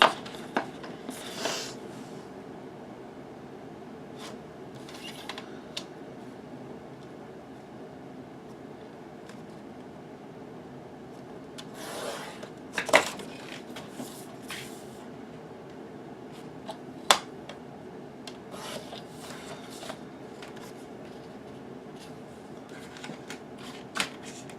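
Paper being cut for a 4x6 photo mat from a Prima Marketing Rose Quartz paper collection gives soft rustling and sliding across a quiet room, with a few sharp snips and taps scattered through.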